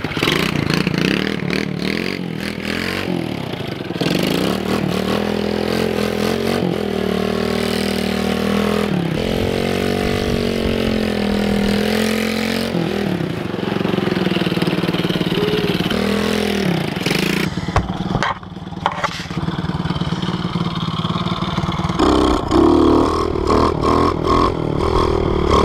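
A pit bike engine runs steadily as it is ridden around an icy driveway, its loud buzzing drone rising and falling with throttle changes, with occasional clattering and scraping over about twenty-five seconds.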